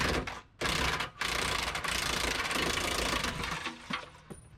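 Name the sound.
unscrewing bolts on an RV pin box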